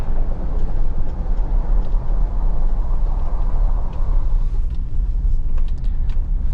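Steady low rumble of a Mahindra Thar driving, with a faint whirring drone from a noisy differential running continuously beneath road noise.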